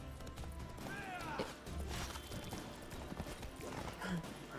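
Galloping hooves of the horse Roach in a video game, a steady clip-clop rhythm running under busy game sounds and a voice talking throughout.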